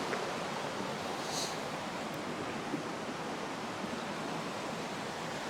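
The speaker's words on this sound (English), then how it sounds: "I get to see the rushing water around here." Rushing water at Hickory Run State Park, a steady broadband roar of flowing stream water that stays constant and fairly close throughout, with no voices.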